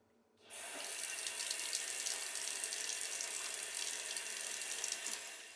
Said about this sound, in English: carefully wash your hands with soap and water